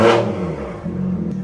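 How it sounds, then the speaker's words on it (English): A warmed-up BMW M2 with an M Performance exhaust, running a stage 2 plus tune, lets out a single loud rev that decays quickly, followed by a low rumble of idle. "the car's been warming up a little bit, so let's get a couple revs and then shut it off"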